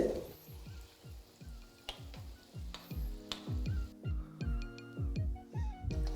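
Semolina balls for rasmalai frying in hot oil, giving a soft, steady sizzle that runs throughout at low volume beneath a repeating melodic background tune.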